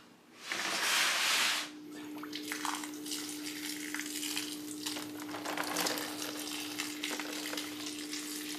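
Water poured into the pot of a large repotted houseplant, starting with a loud rushing splash, then settling into a softer continuous trickle and seep as it drains, with a faint steady hum beneath.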